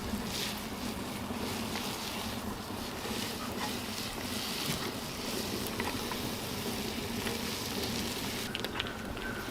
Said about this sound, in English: There we go, now they're sizzling.